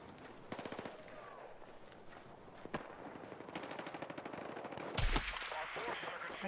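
Automatic gunfire in the video game Battlefield, with dense rapid bursts and a few sharper single shots, loud and close. A heavy blast lands near the end, with faint game noise underneath.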